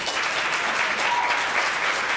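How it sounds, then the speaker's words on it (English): Sustained audience applause fills a 2022 candidate forum on developmental disabilities in Georgia, a dense, steady wash of clapping from a sizable crowd with no voices over it. "Y'all, I want y'all to give a big round of applause to our coworker"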